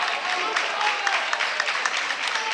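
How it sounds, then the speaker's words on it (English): Basketball crowd of Goreville Blackcats fans clapping in rhythm for defense in a high school gym, a moderate, distant patter under a play-by-play voice. "Blackcats clapping for defense now"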